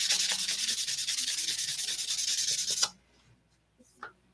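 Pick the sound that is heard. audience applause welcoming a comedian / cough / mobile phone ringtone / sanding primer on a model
sanding primer on a model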